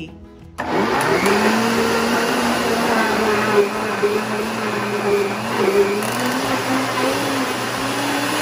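A blender whirs steadily, blending bananas with honey and cinnamon, switching on abruptly after a quiet moment and running as a loud, continuous motor drone with slight pitch wobbles.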